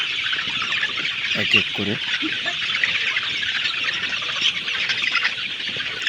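Farm chickens cluck steadily around a lowered feeding area, a dense, continuous chorus of close hens with a few sharper calls standing out, while someone speaks briefly over them.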